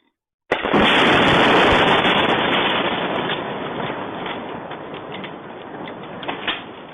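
A sudden loud boom opens into a long rolling rumble with crackling bursts of distant explosions and air defence fire, slowly fading but still heavy, and no voices.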